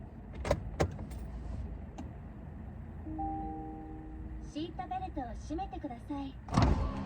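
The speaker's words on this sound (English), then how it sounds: "Going to roll the windows." Power windows on a Nissan S15 whir up and down in short motor runs, mixed with clicks, key jangles and door knocks inside the car, with someone talking nearby.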